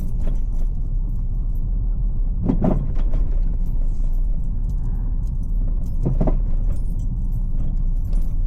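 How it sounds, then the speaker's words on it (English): Inside a 2009 Ford Fiesta Zetec on the road, a worn drive shaft gives two short clunking, rattling bursts over a steady low engine and road rumble, heard close and without speech. "You hear that? That was all my worn drive shaft."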